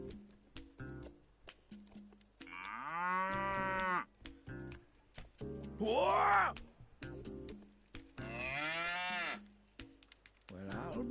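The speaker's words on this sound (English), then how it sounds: "Bororo cattle" Big Bororo cattle in the SandLand video game let out long, low moos and groaning bellows in several separate calls, loud and close, over game sound effects, with a short startled exclamation from a voice.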